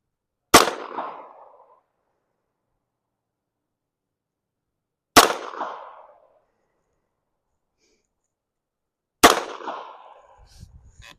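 A Smith and Wesson .22 pistol firing Federal ammunition lets off three sharp, loud shots several seconds apart, each followed by a short fading echo outdoors.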